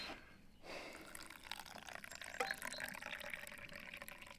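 Water poured from a thermos for cold brew coffee, a steady close liquid trickle and splash with faint drips, running continuously without speech.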